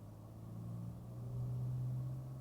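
A car drives along a city road during a driving lesson in Düsseldorf, its engine a low, steady hum inside the cabin that swells slightly partway through, with no talking.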